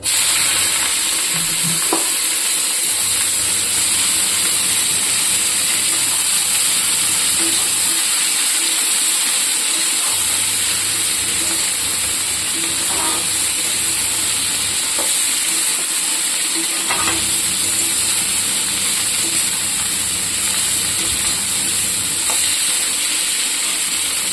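Cabbage greens fry in a pan with a steady, even sizzle and hiss that runs unbroken throughout, with a few faint clicks of utensils and no voices.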